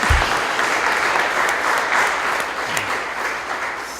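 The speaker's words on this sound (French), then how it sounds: "Je pense qu'il mérite un applaudissement pour tout ce qu'il a fait." An audience at the closing of a symposium applauds a retiring director general, a steady, dense wash of clapping from many hands that holds evenly for the whole stretch.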